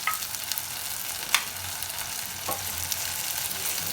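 Sambar ingredients with plantain shoot and sambar powder sauté in a pan, giving a steady moderate sizzle with a few spoon scrapes and taps, no talking.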